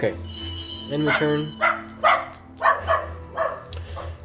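A pet dog barks in a series of short, close barks over a few seconds, while a voice speaks briefly near the start.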